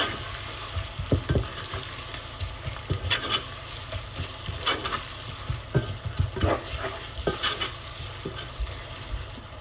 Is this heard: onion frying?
yes